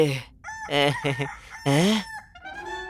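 A rooster crows loudly and close by in two drawn-out calls, followed by a fainter, shorter crow.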